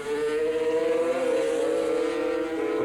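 Suzuki and Honda 500cc Grand Prix racing motorcycles at the 1987 French Grand Prix, a sustained high-pitched engine howl that holds steady and shifts slightly in pitch, loud and continuous with no talk.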